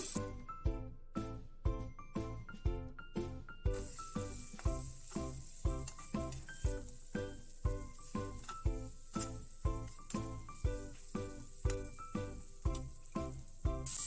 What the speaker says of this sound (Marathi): आता आपण यात बटाटा टाकूया.